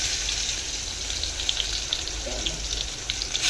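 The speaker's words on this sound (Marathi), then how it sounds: "चला तर आपण याची फोडणी करून घेऊयात।" Onion tempered in hot oil for a kurma, giving a steady, close hiss of sizzling oil that holds for the whole stretch with no talking.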